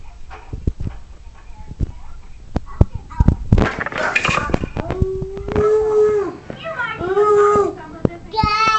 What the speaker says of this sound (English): I hear dog barking.